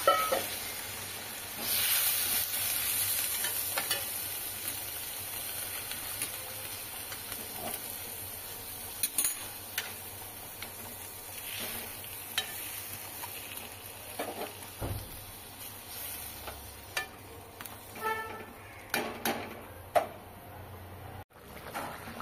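Parshe fish curry cooking in a frying pan with poppy seed and mustard paste, a steady soft hissing sizzle with scattered clicks and scrapes from stirring, no voices.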